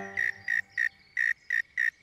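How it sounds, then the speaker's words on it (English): Cricket chirping in an animated children's cartoon, six evenly spaced shrill bursts close by, clear against near silence. "Follow that cricket!"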